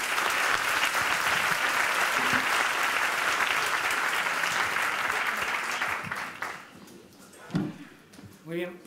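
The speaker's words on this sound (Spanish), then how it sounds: "Pues yo creo que se han merecido un aplauso nuestros ponentes." A conference audience at an agri-food industry forum gives the speakers dense, sustained applause that fades near the end into a few scattered claps and faint stirring in the hall.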